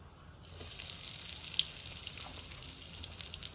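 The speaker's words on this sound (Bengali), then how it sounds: "আমি প্রথমে তেলে একটু হিং দেব" Asafoetida (hing) dropped into hot oil in a home kitchen while making Bengali-style singara filling, giving a soft, steady sizzle with faint crackles that starts after a brief quiet moment and continues alone.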